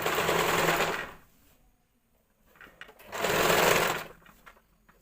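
A sewing machine stitches a hem on a churidar in two fast, steady runs separated by a quiet pause with faint handling noises, close and clear with no talk over it.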